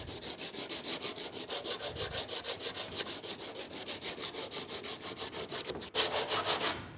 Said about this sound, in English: So you're going to hand sand this right here